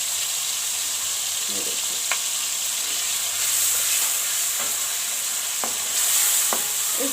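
Garlic-ginger paste frying in hot oil for Shimla chicken, a steady broad sizzle close by with a few sharp stirring clicks, and a brief voice speaking over it.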